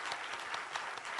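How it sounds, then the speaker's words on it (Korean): Congregation applause at a church ordination ceremony for new deaconesses, marking a 20th-anniversary service; dense, steady clapping fills the short moment at moderate level with no talking. "박수로 축복해 주시기 바랍니다"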